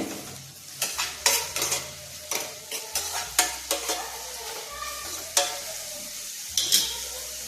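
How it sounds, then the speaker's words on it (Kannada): Onions frying in a pan for a capsicum gravy, a steady sizzle broken by repeated sharp scrapes and clinks of a spoon stirring against the metal, close and fairly loud with no voices. "ಈ ಕಡೆ ಈರುಳ್ಳಿ ಮಗ್ತಾ ಇದೆ."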